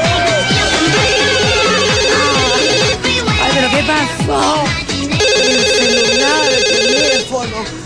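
A telephone rings with a repeating electronic ringtone in two long bursts, loud and close, while voices talk over it throughout.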